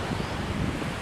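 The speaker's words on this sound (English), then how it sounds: "It's really windy again." Strong wind at a beach beside a large jetty, with steady broadband roar and microphone buffeting over faint surf, continuous and close throughout.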